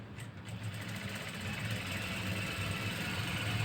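A sewing machine stitching fabric hums and whirs steadily at close range, with fast, even mechanical vibration and no talking.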